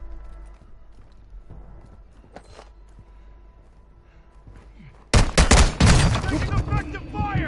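Gunfire in Call of Duty: DMZ erupts suddenly after several seconds of quiet ambient sounds, a loud burst of rapid shots and echoing cracks continuing to the end.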